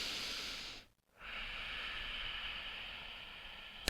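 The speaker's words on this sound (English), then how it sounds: "it creates this kind of tunneling sound inside your throat" Ujjayi yogic breathing through the nose during a calming pregnancy birthing-ball workout: a long hissing inhale, a brief pause, then a steady airy throat-toned exhale, close and clear with no talk.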